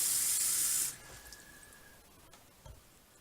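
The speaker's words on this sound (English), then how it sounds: "I'm just gonna fill some water up from right here, and I'm just gonna rinse it" Tap water gushes loudly for about a second to rinse a fountain pen, then cuts off, leaving quiet room noise with a couple of faint knocks.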